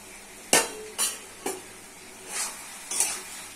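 Fish frying in a pan at home, stirred with a utensil in about five separate scraping strokes over a faint, steady sizzle; close and clear, no voices.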